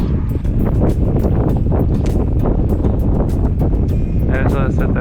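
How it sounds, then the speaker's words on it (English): Steady wind buffets the microphone and the open water on a family fishing trip for trout off a drop near Yankeetown, a loud continuous rush that holds throughout, with people talking over it. "This wind is making it tough."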